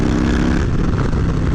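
A 2020 Harley-Davidson FXLRS Low Rider S motorcycle being ridden: a loud, continuous roar of engine and wind, dense and close throughout, with no voices.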